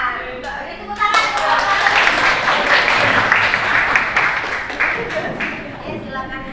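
Classroom applause for the first student group as it comes forward at a teacher performance test, a steady burst of clapping from a small group of children, filling the room loudly for several seconds.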